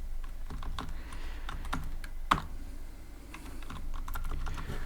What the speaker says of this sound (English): I will type def delete parenthesis, and I will type here entry dot delete